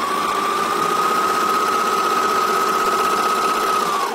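A Juki overlocker serger runs at a steady pace, giving off a smooth, even mechanical whir with a constant pitch. It stays close and unbroken for about four seconds, then slows slightly at the very end.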